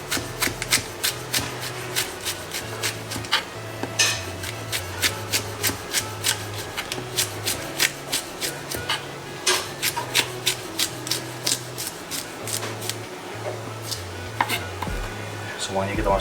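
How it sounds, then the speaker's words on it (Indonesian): A knife slices cabbage thinly on a cutting board, producing rapid, regular crisp cuts at close range over a low steady hum. "Kolnya juga kita iris tipis saja."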